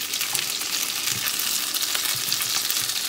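Carrots fry in melted butter in a pot, producing a steady close sizzle with occasional soft stirring knocks and no voices.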